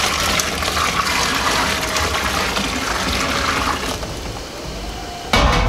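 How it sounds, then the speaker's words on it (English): Three and a half gallons of reverse osmosis water pour steadily and loudly into a brewing pot, a continuous rushing gush that tapers off near the end. "Let's go ahead and pour the rest of my water in."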